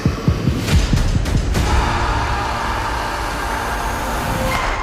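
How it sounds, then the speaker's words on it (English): A heartbeat sound effect pulses as a quick series of deep, close thumps for the first second or so, then settles into a steady low rumbling hum. "Let us feel the heart beating."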